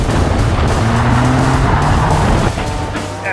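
A rally car on the Mondello Park race track roars loudly and close, its engine revving steadily while the tires squeal and skid, then the engine note drops near the end.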